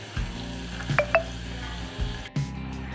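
Onion, carrot and peas sautéing in a pan for wheat rava upma: a brief sizzle with spoon scrapes and stirring clatter, plus a couple of short tonal beeps.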